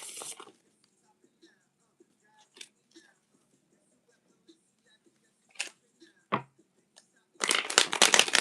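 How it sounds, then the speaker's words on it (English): Tarot cards riffle and slap in a brief burst at the start, then sparse soft taps and card flicks, ending in a loud, dense shuffle up close. "I'm just really shuffling."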